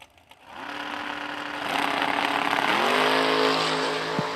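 First generation Camaro in a drag race against another Camaro, engines roaring up as the cars launch and a steady loud rising drone held to the end.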